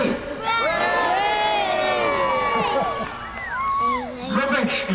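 Crowd of children cheering together in a practice cheer at an outdoor park event, a loud sustained burst of overlapping shouts and whoops that swells, dips, then rises again.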